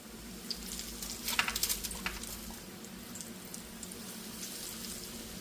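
Breaded fish pieces frying in a pan of hot oil, giving a steady close sizzle with a brief cluster of sharper crackles as the pieces go in, then settling back to an even bubbling hiss.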